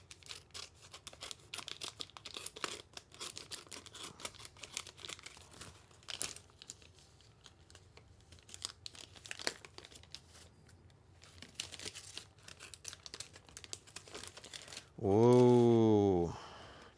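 Tough plastic packaging is crinkled, crunched and torn while someone struggles to open it, giving irregular bursts of close rustling and tearing. A voice cuts in briefly at the end.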